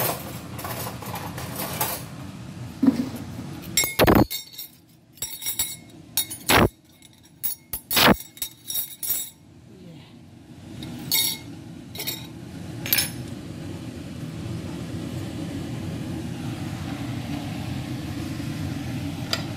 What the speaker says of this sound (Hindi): ये मैं प्लेटें रख ली हैं, ये बॉल से बॉल में डालूंगी।